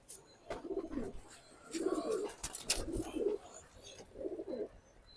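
Pigeons coo in soft, low repeated phrases, several calls spaced a second or so apart, with a few sharp knocks and rustles in between.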